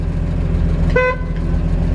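A single short, bright blast of a 1947 Chevrolet 3100 pickup truck horn over a steady idling engine rumble, close by; the horn works only sporadically.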